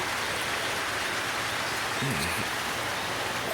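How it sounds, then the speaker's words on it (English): Steady rain hisses evenly in the background, with a brief low voice murmuring partway through. "So if it ever stops raining again"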